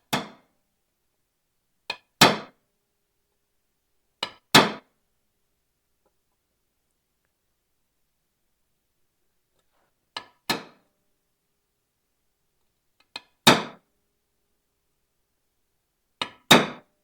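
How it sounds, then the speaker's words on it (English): Hammer strikes on metal trim for a Mandalorian armor shoulder piece, six sharp double blows, each a light tap then a harder hit, spaced irregularly with silence between, close and crisp. "This is where it's going to make it a lot easier to actually hammer my hand."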